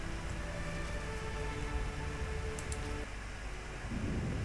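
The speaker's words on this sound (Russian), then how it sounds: "Дождь не шуточный." Heavy rain pours steadily in The Witcher game, a dense, even hiss that fills the scene, with low rumbling beneath suggesting thunder and a faint muffled swell near the end.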